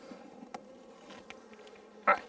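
Honey bees buzz around an open hive during an inspection, a faint steady drone with scattered close passes and a few brief bumps and knocks.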